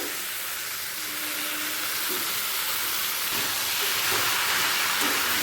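Finely chopped bottle gourd hits a hot pan with cooked-down tomato, setting off a loud, broad steamy hiss that holds steady and swells slightly, with a few soft knocks of the utensil.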